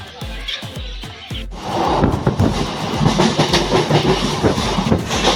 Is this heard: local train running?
yes